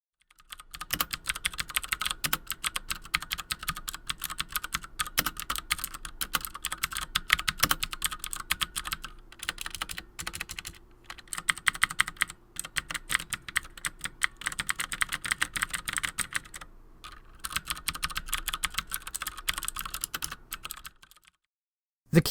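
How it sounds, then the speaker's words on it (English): Steady, fast clacking of keys on a HyperX Alloy FPS Pro mechanical keyboard during a typing test, loud and dense for about twenty seconds with brief pauses, then stopping. "we'll do the typing test right now"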